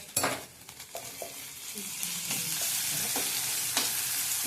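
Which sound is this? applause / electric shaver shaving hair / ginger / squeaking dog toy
ginger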